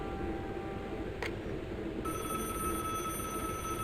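A telephone rings in the Broken Sword video game, a steady electronic bell tone that starts partway through and continues clearly over a low background hum, with no talking.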